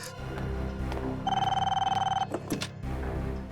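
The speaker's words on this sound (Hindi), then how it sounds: "उन्हीं लोगों का फोन होगा ये।" A telephone rings in a tense Hindi crime drama, a bright trilling electronic ring lasting about a second amid dramatic background music.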